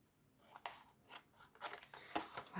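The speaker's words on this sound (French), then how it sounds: "On vient couper nos 2 angles ici." Scissors snip through paper corners for a handmade mini-album, a few quiet, close crisp cuts with small rustles between them.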